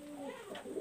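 A young Rampuri pigeon gives a soft, close cooing call, a brief murmuring phrase rising near the end, heard alone without talk.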